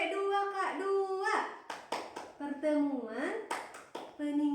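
A women's group performs the tepuk P2K2 clapping routine, bursts of rhythmic hand claps broken up by chanted voices at close range, with the claps landing in short regular sets between sung phrases.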